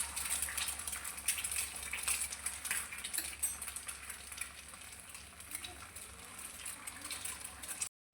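Egg half-fry cooking in a pan for a quick breakfast, a soft continuous sizzle and crackle of oil with faint clinks of utensils, close but quiet, ending abruptly.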